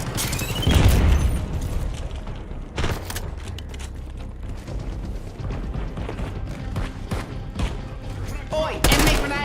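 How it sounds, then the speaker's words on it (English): Loud video-game combat with grenade and flashbang explosions amid bursts of gunfire, heavy booms near the start and end of the stretch, with rapid shots throughout and brief voice lines mixed in. "Enemy grenade! Enemy flashbang!"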